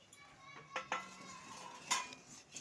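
Shredded coconut is stirred into jaggery syrup in a pot, with scattered metal clinks and scrapes of a spoon against the pot amid light background voices.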